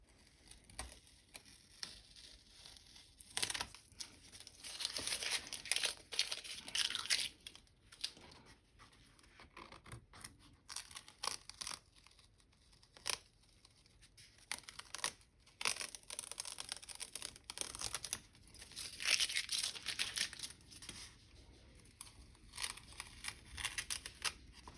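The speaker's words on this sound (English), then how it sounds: "And then we have to remove the masking tape." Masking tape being peeled off watercolor paper in a sketchbook: irregular bursts of crackly, tearing strips with pauses between pulls, close and fairly quiet, no voices.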